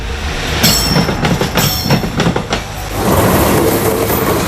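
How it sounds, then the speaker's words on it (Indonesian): A loud train rumbles past close by through a market built along the rails in Dupak Magersari, Surabaya, wheels clattering rhythmically over the rails before settling into a steady roar. "Jika hanya bersanding dengan kereta yang melintas, itu hal biasa."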